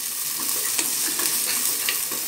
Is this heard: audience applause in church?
no